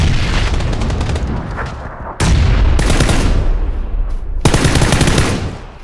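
Loud, sustained automatic gunfire in the video game PUBG, with dense rattling bursts broken by brief pauses. The shots stay close and dominant throughout.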